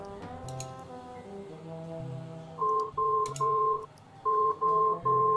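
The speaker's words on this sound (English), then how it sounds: "It was my cell phone, and it is someone who is very persistent." A cell phone rings in the video game Resonance, sounding as repeated electronic tone bursts in a steady on-off pattern over a faint tonal game backdrop.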